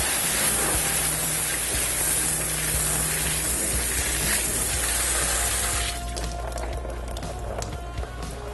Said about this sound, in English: we want to take them with a strong blast of water